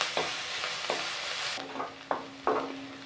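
Onions sautéing with a little salt in a pan for a Chettinad-style pepper chicken, with a low sizzle and several distinct stirring scrapes spaced through the stretch, close by and with no talking.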